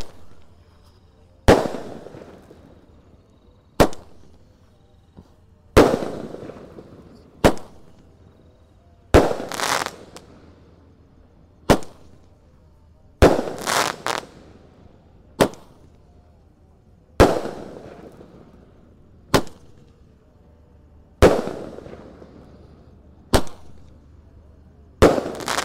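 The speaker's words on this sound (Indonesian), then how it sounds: "yang kita nyalakan penutupnya Roman Candle 8 shot ukuran 1 inci guys" An eight-shot, one-inch Roman candle fires sharp shots one after another at roughly regular intervals at night, each followed by a brief crackling fizz, loud against quiet.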